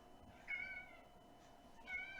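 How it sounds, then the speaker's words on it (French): Domestic cat meowing twice, two drawn-out mews about a second and a half apart, faint and close over a low steady room hum, with no talking. "J'ai mon chat qui se joint à la fête."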